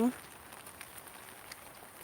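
Heavy rain keeps up a softer, steady hiss near a small creek, with a brief burst of voice at the very start before the rainfall continues alone.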